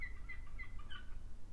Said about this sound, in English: Sounds like a seagull, that to me.